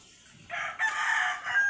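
A rooster crows on a farm, one fairly faint, slightly distant cock-a-doodle-doo rising over quiet background noise.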